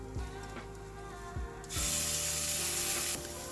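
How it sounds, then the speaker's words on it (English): Ginger garlic paste, about a tablespoon, hits a hot pan for a lions mane mushroom stir fry, giving a few soft stirring scrapes before a loud, steady sizzling hiss bursts up and holds close. "I'm going to go ahead and add some ginger garlic paste and just give it a quick stir."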